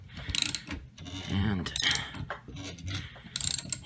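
An AK rifle barrel being installed gives a string of close mechanical clicks and ratcheting rattles in short bursts, with a brief spoken word.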